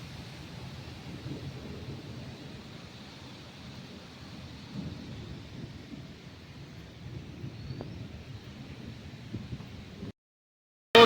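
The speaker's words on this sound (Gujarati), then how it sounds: "મિત્રો અત્યારે ફૂલ વરસાદ અને પવન હારે ચાલુ છે" A heavy rain and wind storm sweeps over a village farm with waterlogged fields, producing a steady, dense roar of rain and gusting wind that holds constant for about ten seconds before cutting out.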